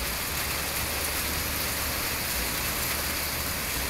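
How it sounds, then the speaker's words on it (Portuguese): Steady heavy evening rain pours down in Santos, Brazil, a dense continuous hiss of water with no pauses or voices. "20h34, chovendo em Santos."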